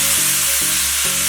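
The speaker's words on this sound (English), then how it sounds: "I'm going to stir it." Maggi noodles with oyster sauce, chili sauce and light soy sauce frying in a pan, a loud, dense continuous sizzle with a few abrupt shifts as the noodles are stirred, heard up close and alone.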